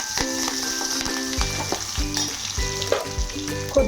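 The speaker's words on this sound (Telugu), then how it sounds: "కొంచెం వెల్లుల్లిపాయ ఫ్రై అయ్యేదాకా ఫ్రై చేసుకోవాలి" Garlic slices and curry leaves sizzle loudly in hot oil on a low flame, a close, continuous crackle with a few stirring clatters and no talking.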